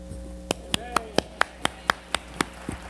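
A preacher claps his own hands about ten times in a steady, even rhythm. Each clap is sharp, close and crisp over a quiet background.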